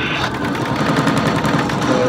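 Turret gunfire in the Terminator Salvation arcade game, a loud, continuous rapid stream of machine-gun bursts with a dense, steady rattle that never lets up, heard up close over arcade noise.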